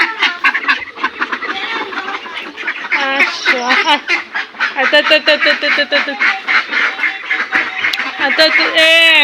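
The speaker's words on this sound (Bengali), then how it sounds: "দেখি কতগুলো হাঁস বের হয়" A flock of ducks quacking loudly and continuously up close, overlapping rapid calls with a person's voice mixed in.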